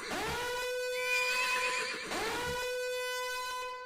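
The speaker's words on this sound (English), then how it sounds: "what if you put the horse with the horn?" A horse neighs twice as a sound effect, a loud whinny with a strong pitched upper voice that rises and then falls away, the second call starting near halfway and ringing out close and clear with no talk over it.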